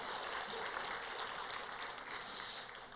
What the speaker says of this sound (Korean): 우리 형제들에게 박수를 보내주시기를 바랍니다